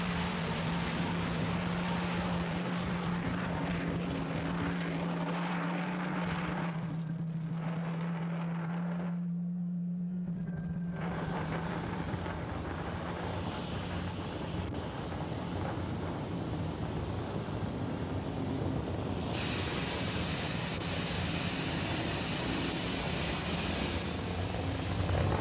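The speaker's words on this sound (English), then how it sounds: "Falcon 9 has had a successful liftoff from pad 39A" A SpaceX Falcon 9 climbs after liftoff from pad 39A, a loud, continuous broadband roar with wind-like rumble that shifts in tone partway through, without speech.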